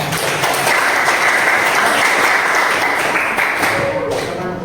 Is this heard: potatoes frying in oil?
no